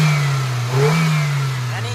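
A Hyundai Accent petrol car engine revs up from idle near the listener, rising in a strong steady drone and then settling, after a fix for a pickup and misfire problem.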